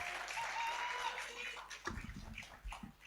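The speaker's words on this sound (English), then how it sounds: "Please a round of applause for Lucy Kimanzi to come through on the stage" An audience at the Journey Back To Eden launch applauds as a speaker is called to the stage. Broadband clapping fills the first part, and sparse claps and rustle follow near the end.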